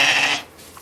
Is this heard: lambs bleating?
yes